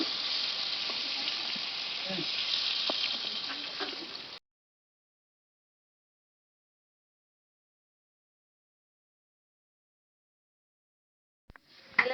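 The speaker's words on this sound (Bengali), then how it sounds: "এই চিংড়ি মাছ বেশি ভাজা দরকার নেই, হালকা করে ভাজলেই হবে" Prawns sizzling lightly in hot oil in a pan for a raw jackfruit and prawn dish, a steady frying hiss for about four seconds, then silence until a few brief clicks at the very end.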